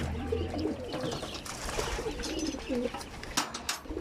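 Breeding pigeons coo repeatedly in a loft, soft rolling calls close by over a steady background hiss, with a few brief wing or scuffle sounds.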